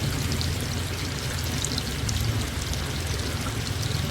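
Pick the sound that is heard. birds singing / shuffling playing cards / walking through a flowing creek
walking through a flowing creek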